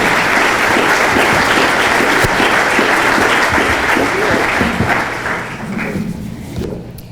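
Loud, sustained applause from a civic audience welcoming Mayor Margaret Feierabend to the podium for her State of the City address, a dense steady clapping that thins and fades toward the end.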